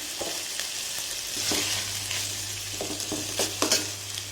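Onions sauté in a hot pan for pigeon curry, giving a steady close sizzle with scattered scrapes and knocks from stirring, a little louder toward the end.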